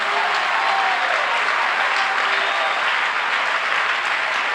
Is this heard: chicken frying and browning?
no